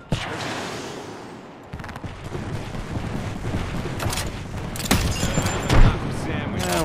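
Gunfire in an Apex Legends match: repeated shots crackle over a busy, dense game soundscape, with a louder burst of impacts toward the end.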